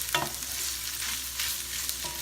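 Beef and pork egg roll filling being stirred in a large pot over a hot burner, sizzling with repeated scraping strokes of the utensil against the pot, close and alone.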